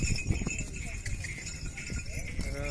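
A village bullock walking and trotting on open ground at a cattle market in Vaijapur, its hooves clopping unevenly beneath steady crowd noise and people talking.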